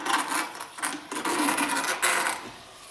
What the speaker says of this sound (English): Just rasping down any sharp edges